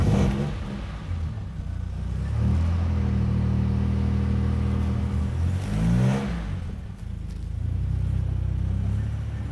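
An original, untouched Alvis TB14 vintage car engine runs steadily and close by, a deep continuous rumble that swells as it is revved near the middle, then settles back to an even idle.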